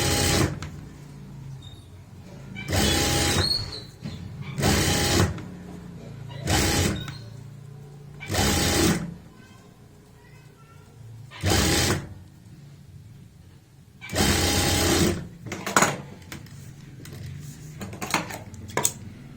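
Sewing machine stitching the neckline of a boat-neck kurti, running in repeated short bursts of fast mechanical chatter separated by quiet pauses.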